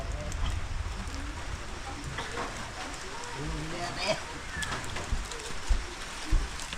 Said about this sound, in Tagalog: Umuulan sa birthday ni tatay.